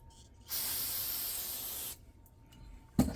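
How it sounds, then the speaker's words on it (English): A single sustained hiss from an aerosol spray can onto a Kohler 6.5 hp wood splitter engine part lasts about a second and a half, followed by quiet handling and a sharp knock. "Give it a little spray."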